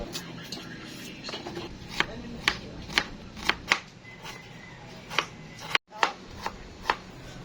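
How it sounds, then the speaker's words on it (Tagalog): A knife chops ingredients for chicken adobo, such as garlic, on a cutting board. Crisp, close taps fall in an uneven rhythm over a soft kitchen background, with a brief pause near the end. "i-chop ang mga sangkap."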